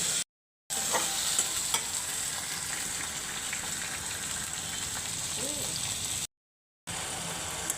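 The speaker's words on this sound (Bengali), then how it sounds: "এখানে পেঁয়াজ কাঁচামরিচ আর পেঁয়াজ দিয়ে দিলাম" Onion and green chillies frying in a pan, a continuous bright sizzle with occasional stirring scrapes, broken by two short silent gaps.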